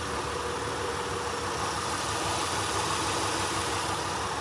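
A BMW engine idles steadily under an open hood, a loud, continuous mid-pitched hum with faint vibration and a slight knock barely noticeable beneath the drone.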